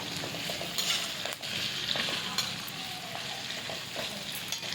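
Sliced onions fry into crisp beresta in mustard oil for biryani, giving a steady, close sizzle with faint stirring clicks throughout.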